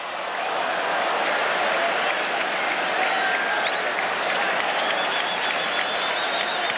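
Steady, roaring crowd applause and cheering fill a baseball stadium during the 1988 NLCS Game 7 between the Mets and Dodgers, a continuous wash of sound throughout.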